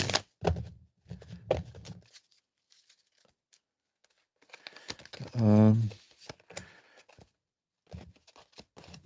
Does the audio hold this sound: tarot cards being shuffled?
yes